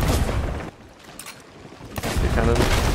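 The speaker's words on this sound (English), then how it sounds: "The cannon." Ship cannons in the pirate game Sea of Thieves fire heavy, booming blasts, with one loud burst at the start and another near the end and a quieter rumbling gap between them, with voices heard amid the action.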